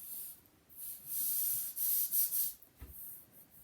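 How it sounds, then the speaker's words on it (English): An air hockey puck rubbed firmly over paper on a gel press printing plate, giving soft, close, hissy rubbing strokes in uneven bursts with a faint knock near the end. "I'm going to use an air hockey puck to give it a good firm burnishing"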